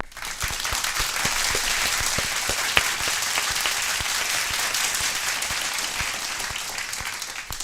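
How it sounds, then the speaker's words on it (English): A crowd gives a round of applause at the close of a live MMA recap show, a dense, steady wash of clapping that holds for about seven seconds with no break. "A round of applause."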